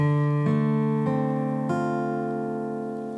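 Acoustic guitar barre chord on the top four strings strummed three times at an even, unhurried pace, ringing clearly and fading slowly after the last stroke, with no voices.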